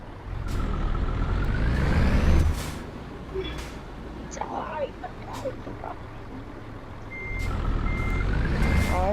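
Heavy truck in Euro Truck Simulator with a steady engine rumble and repeated reversing beeps, plus a brief air-brake hiss, loud and continuous across the clip while someone talks over it.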